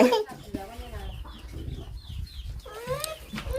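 Ducks quack and call in short, repeated bursts close by, scattered across the moment, while people talk over them.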